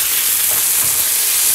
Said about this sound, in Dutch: Dan laat het flink heet worden, zodat dat vlees echt lekker gaat bakken.